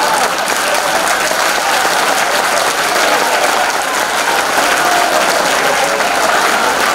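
Loud, continuous audience applause at a charity concert in Batočina, greeting a young primary-school girl on stage, even and sustained for several seconds with little else audible.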